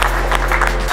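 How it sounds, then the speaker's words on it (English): An audience claps for under-18 graduates of a youth boxing program, a steady dense patter of many hands filling the room, close and loud, cutting off abruptly at the end. "Give them a round of applause"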